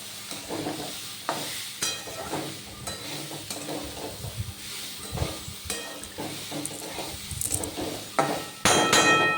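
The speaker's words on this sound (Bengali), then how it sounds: "সব সবজিগুলি দিয়ে দিয়েছি এইবার আর একটুখানি নুন দিয়ে দিলাম দিয়ে এবার নাড়াচাড়া করে দেবো" Vegetables and oats khichdi being stirred in a frying pan, with repeated scraping strokes of a spoon over a soft sizzle and occasional louder clangs against the pan, close and with no voices.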